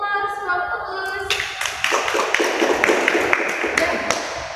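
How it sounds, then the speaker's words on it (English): A classroom of students gives a round of applause, scattered bright claps building into a steady patter for a few seconds after a teacher speaks briefly at the start. "give applause, round of applause"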